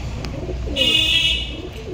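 Pakistani pigeons in a loft give a soft coo and a brief bright call over a low background rumble, fairly near and moderately loud.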